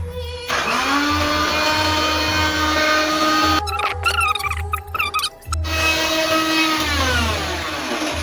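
Mixer grinder running steadily as it grinds tamarind chutney, a loud continuous motor whine with a brief stuttering pulse of jars and blades midway, then the steady grind resumes until the end.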